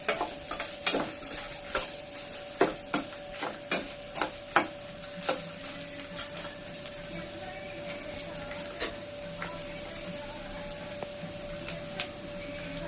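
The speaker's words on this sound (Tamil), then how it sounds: "ஜீரகம். பூண்டு. நம்மளோட பூண்டு. சரியா? இவ்வளோத்தையும் நல்லா வறுக்கலாம்." Cumin seeds and garlic frying in a pan, a steady low sizzle running underneath a series of sharp stirring clicks and scrapes, close and moderately quiet, with no talking.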